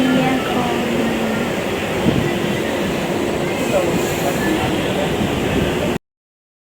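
Steady rumbling rail noise inside a suburban train bound for Howrah, a constant broad roar with faint tonal hums running throughout, no distinct voices.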